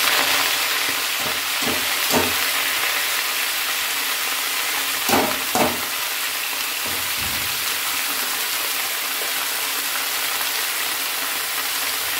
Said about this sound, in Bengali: এবার আমি এর মধ্যে এই কাটা 14 শাকটা, 14 রকমের শাক, এটা দিয়ে দিচ্ছি